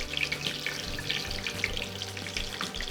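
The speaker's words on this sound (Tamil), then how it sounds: "ஆஹா, சவுண்டு கேட்குதா? அந்த அளவு குக் ஆகிருக்கு, கிறிஸ்பியாக இருக்கு." Beef schnitzel frying crisp in a pan, a steady close crackle and sizzle of hot oil with fine popping, moderately quiet and alone.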